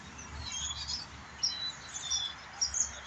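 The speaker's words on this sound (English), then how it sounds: "See how much birds? Can you hear them?" Many birds chirp and tweet at a winter bird sanctuary, a faint, busy chorus of small calls over low outdoor background noise.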